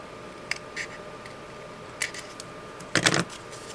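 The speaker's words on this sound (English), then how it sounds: "I think I'll just snip that off." Scissors snip paper trimmings for a junk journal in a few quiet, separate cuts with pauses between them, ending in a quick double snip close to the ear.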